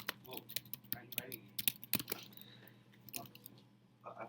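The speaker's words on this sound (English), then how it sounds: "Is that why you're typing instead of writing?" Quiet keyboard typing, a run of soft irregular key clicks and taps in a classroom setting, with faint speech murmuring underneath.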